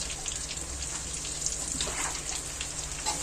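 Okra (bhindi) frying in oil in a pan. A steady, soft, hissing sizzle with fine crackles runs unbroken and close, with no voices over it.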